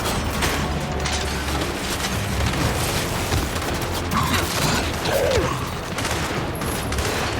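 Sustained turret gunfire in the video game Gears 5, a dense, continuous mechanical rattle of rapid shots that stays loud and close throughout with no pauses.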